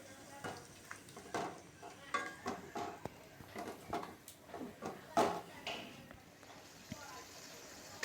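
Spices frying with yogurt and water in a pan for an egg recipe, quiet sizzling under repeated scraping and clinking stirring strokes, with a person talking over it.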